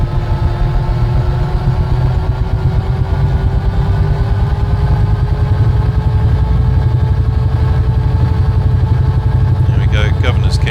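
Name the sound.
UH-1H Huey helicopter engine spooling up, Microsoft Flight Simulator video game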